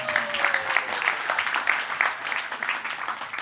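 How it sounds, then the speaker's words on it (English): Applause from a seated audience at a happiness summit, steady clapping with a bright crackle that holds for the whole stretch at moderate level, with a little voice sound mixed in. "pause for applause"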